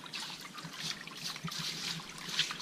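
Water trickles and splashes steadily onto snow at a mink trap set outdoors, a soft continuous dribble with small splashing spikes and no talk.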